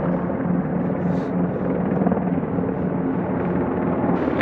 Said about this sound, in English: when trying to record videos, helicopters, airplanes, they're the worst